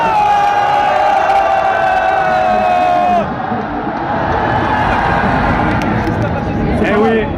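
A large crowd at the Paris Games Week gaming expo, gathered for a WWE appearance, cheers and shouts loudly, a sustained roar with a sharp rising whoop near the start and a fresh swell toward the end.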